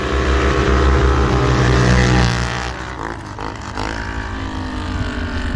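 Polaris and Can-Am off-road vehicles racing, engines roaring loud and continuous, the pitch rising and then shifting as the machines pass and rev.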